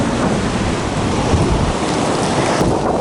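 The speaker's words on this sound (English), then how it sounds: "it's a little bit windy" Strong wind roars steadily across the microphone on a Sea of Japan beach near Vladivostok, a loud continuous rush with a faint surf-like wash underneath and no voices.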